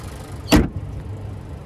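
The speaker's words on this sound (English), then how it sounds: "And there is that 2-liter turbocharged 4-cylinder" A 2025 Nissan Murano SL's 2-liter turbocharged four-cylinder idles with a low, steady rumble, broken near the start by one sharp, loud clunk.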